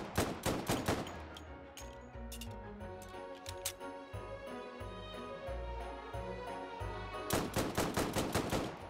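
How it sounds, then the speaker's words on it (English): Webley self-loading pistol firing in the VR shooter Hot Dogs, Horseshoes & Hand Grenades: sharp gunshots, a rapid burst of five or so at the start, scattered single shots and clicks through the middle, then another quick burst near the end. "The Webley self-loading pistol."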